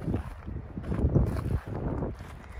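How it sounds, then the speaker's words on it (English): Wind gusts through trees in soft, rushing swells, a low steady whoosh close to the microphone with no other sounds. "I love the sound of wind blowing through the trees."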